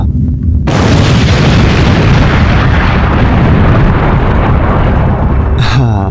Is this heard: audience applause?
no